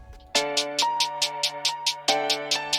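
A steady, even hi-hat pattern ticks over a sustained bass tone, with regular crisp hits repeating in a simple two-step groove and no voices.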